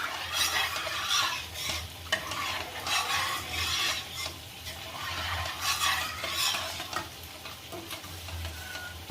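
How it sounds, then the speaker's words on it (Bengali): A spoon stirs thick halim in a cooking pot, repeated scraping and clinking strokes in uneven rhythm over a soft sizzle, close and moderately loud. "ভালো করে নাড়াচাড়া করে মিশিয়ে নেব, যাতে এখানে দানা না পেকে যায়।"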